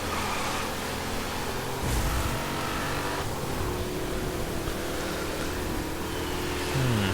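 Cars in a video game hum and rev continuously, a dense mechanical engine drone with shifting pitch and brief surges, steady and fairly loud with no speech over it.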